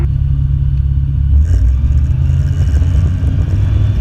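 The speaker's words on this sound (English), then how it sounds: "Just pushing my throttle in full. I'm at full power now." A small airplane engine roars at full throttle during the takeoff roll of an introductory flight lesson, a loud steady low drone that grows slightly stronger partway through, with no talking.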